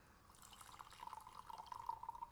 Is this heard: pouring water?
yes